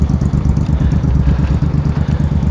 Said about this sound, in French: il y a une moto qui passe à côté de moi